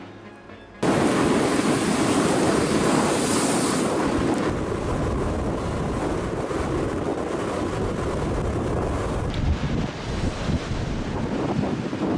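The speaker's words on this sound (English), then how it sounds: "Cold winds and huge waves crashed onto the shores of Lake Michigan" Cold winter storm winds roar into the microphone while huge waves crash and surge along the Lake Michigan shore, a loud, continuous rush of wind buffeting and pounding surf with no voices.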